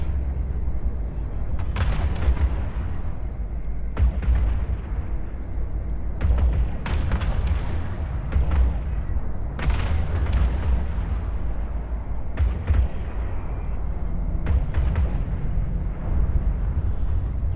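Ships exploding during space combat in EVE Online: a series of deep, loud booming blasts at irregular intervals over a constant rumbling engine and weapons bed, no talk.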